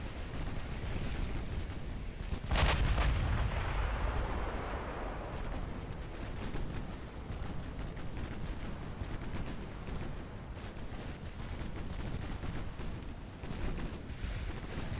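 Battleship main guns fire in an Ultimate Admiral Dreadnoughts naval battle: one heavy, sharp boom erupts, then a long rolling rumble and dense low roar carry on under a constant battle din.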